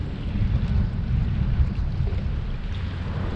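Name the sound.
strong wind on an estuary boat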